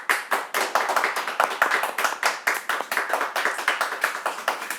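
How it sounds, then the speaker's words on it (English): A live audience applauds warmly, many hands clapping in a dense, steady patter that carries on without pause at moderate volume, with no talking over it. "I think everyone here would like to give you a round of applause for what you've done"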